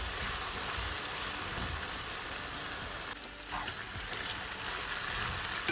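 Lamb kavurma sautéing in a pan, a dense continuous sizzle and crackle like steady frying, close and even, with a brief dip as it is stirred.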